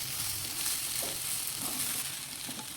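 Carrot rice being stirred in a frying pan, giving a steady soft sizzle with faint scraping and stirring noises throughout, no talking.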